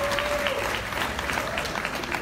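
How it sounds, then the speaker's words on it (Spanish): Loud, continuous audience applause greeting a guest at a youth awards ceremony for a Puerto Rico boys and girls club, steady dense clapping throughout the short moment. "Vamos a recibir con un fuerte aplauso a Gerald Rodríguez"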